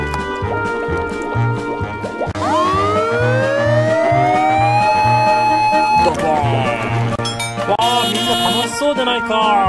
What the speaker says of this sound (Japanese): これは真っ赤な消防車だ